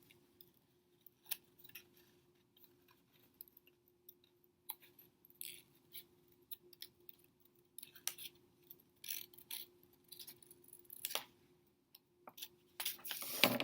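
Quiet, intermittent snipping of scissors cutting paper and crisp paper rustles, close by and irregular, with a faint steady hum underneath and no talking.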